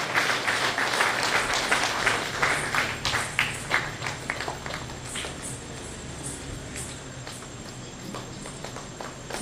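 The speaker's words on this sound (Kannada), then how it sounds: "ಕಲಾಭಿಮಾನಿಗಳು ಚಪ್ಪಾಳೆ ಮೂಲಕ ಅವರನ್ನು ಪ್ರೋತ್ಸಾಹಿಸಬೇಕಾಗಿ ಕೇಳಿಕೊಳ್ತಾ ಇದ್ದೇವೆ" An audience at a Tulu Yakshagana performance breaks into applause, a dense burst of clapping that swells early and then thins into scattered claps, heard from within the crowd with no talk over it.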